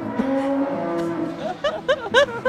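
A large herd of cattle on a French farm lows loudly and nearby. Long drawn-out moos give way to a run of shorter, overlapping calls.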